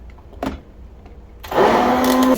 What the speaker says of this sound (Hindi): इसको एक दफ़ा फिर ब्लेंड कर लूँगी